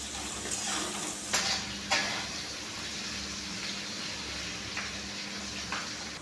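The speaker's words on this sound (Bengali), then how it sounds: "ক্যাপসিকাম আর পেঁয়াজটা আমি একটু ভালো করে ভেজে নেব" Capsicum and onion fry in a pan without salt, a soft continuous sizzle with a few louder stirring scrapes near the start, heard close and quiet with no voices.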